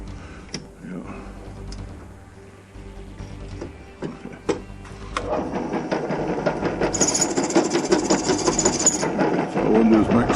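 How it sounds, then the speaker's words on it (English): Drilling on a Flathead Ford fan or generator part: a few light handling taps and clicks, then a steady close-up whirring, grinding drill noise that runs continuously through the second half. "Mark the center. The same thing for the next one. Okay, shut that off."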